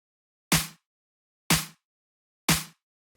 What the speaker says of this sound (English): And if it's Psytrance, you might want a snare that sounds like this.